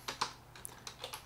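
A short burst of light, quick keystrokes on a computer keyboard while a session name is typed, about half a dozen soft clicks in an uneven rhythm, close and quiet with no talking.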